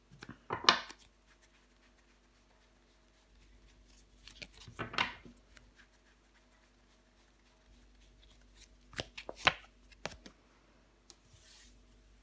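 Tarot cards are shuffled and dealt onto a surface in a few quiet, short rustling and snapping bursts, separated by near silence.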